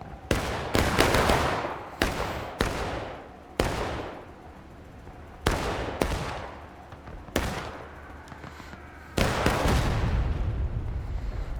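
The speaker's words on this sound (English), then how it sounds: "Artillery shot hits pretty close to both these companies." Artillery and gunfire in the American Civil War video game War of Rights, about eight loud booming shots and blasts at irregular intervals, each decaying into a rolling echo, some sounding closer than others.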